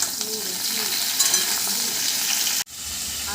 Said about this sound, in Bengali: আলু পটলগুলো হালকা করে ভেজে নিচ্ছি